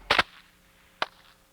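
A muzzle-loading rifle volley fires on command at a 1992 scout camporee fire-by-file demonstration, giving a sharp double crack followed about a second later by a single lone report.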